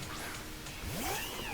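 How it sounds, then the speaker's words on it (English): A cat in a Pokémon Sword game meows with a couple of rising and falling whiny cries, fairly close and clear over a steady background hum. "Cat."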